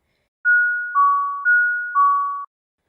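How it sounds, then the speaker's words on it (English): Doorbell ringing at a home's front door, two clean ding-dong chimes in succession, each a higher tone falling to a lower one, heard alone against silence. "I heard the doorbell ring."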